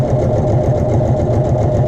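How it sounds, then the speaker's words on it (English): A sewing machine runs a continuous edge stitch along a hem sample, with a steady, dense mechanical whir and rapid needle chatter throughout, close and loud with no talking. "we're going to do an edge stitch"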